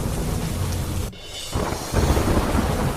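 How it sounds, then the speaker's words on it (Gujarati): Heavy monsoon rain roars in a dense, steady wash, with deep rumbling thunder mixed in and a brief dip in the noise partway through. "ભારે વરસાદને પગલે નાની પરબડી ખાતે ફુલજર નદીમાં પૂર."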